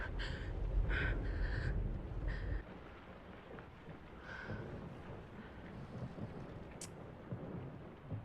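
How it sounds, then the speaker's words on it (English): A heavy, low thunder rumble from a storm scene in a TV drama fills the first two and a half seconds, then settles into a quieter, steady storm backdrop with faint, high bird-like calls. "The storm."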